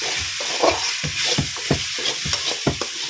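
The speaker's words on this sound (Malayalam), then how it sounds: "നാളികേരം ഇതേപോലെ ഒന്ന് വറുത്തെടുക്കണം" Grated coconut roasts in coconut oil in a pan, a steady sizzle overlaid with a quick series of scraping stirs, close and alone.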